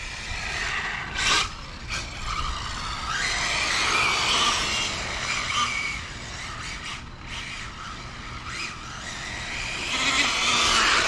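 A fast RC car drifter races along outdoors, its tires ballooning with a continuous high whining, whirring roar that swells and fades as it speeds past, with brief squeals in between.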